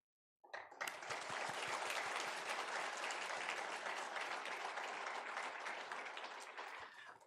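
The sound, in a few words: church congregation applauding a departing pastor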